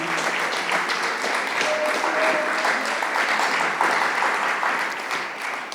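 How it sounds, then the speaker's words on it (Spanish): A church congregation at a Spanish-language service breaks into loud, continuous applause that holds steady for several seconds, dense and close, with no voices rising above it. "Dele un fuerte aplauso al Señor porque Él vive."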